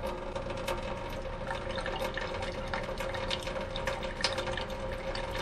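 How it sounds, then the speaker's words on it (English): Water from a kitchen sink faucet runs as a faint, steady stream, with light splashing and drips over a low background hum. "turn this faucet on"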